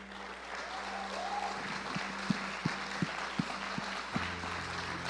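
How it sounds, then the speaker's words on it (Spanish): Church congregation on its feet applauding during a sermon, a broad wash of clapping over a low steady tonal hum, with a few distinct louder thumps scattered through the middle. "Démosle un aplauso al Señor"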